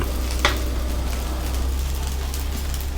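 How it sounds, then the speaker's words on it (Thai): Fried rice with crispy fried fish being stir-fried in a pan over high heat, a steady close sizzle and frying hiss throughout with a few brief scraping stirs, no talking. "เรามาผัดให้เข้ากันครับผม"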